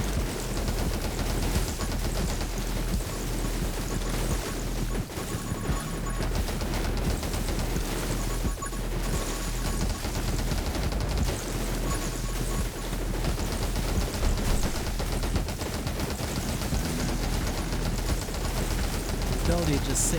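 Continuous rapid gunfire from the top-down survival shooter 20 Minutes Till Dawn, a dense unbroken stream of shots over game music lasting the whole stretch, steady and loud with no pauses.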